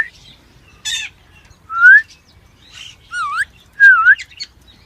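Small birds calling up close: a handful of separate whistled, rising and falling chirps with brief pauses between them, loud and clear over a quiet background.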